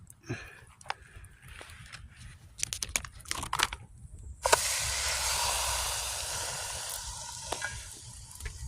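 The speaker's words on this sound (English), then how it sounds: "Skizzle, skizzle. There we got the steak." Steak hits a hot pan at a campsite after some clattering handling, then a loud steady sizzle bursts up and carries on, slowly easing off.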